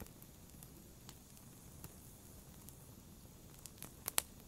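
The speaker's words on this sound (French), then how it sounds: "Écoutez le crépitement du feu." A campfire in a quiet, peaceful place far from the city gives off faint crackles and soft pops. Sharp snaps break at scattered moments over a low hiss, with a couple of brighter pops near the end.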